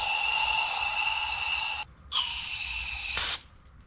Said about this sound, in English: And now it's just rinsing.